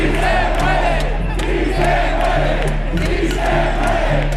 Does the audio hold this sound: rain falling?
no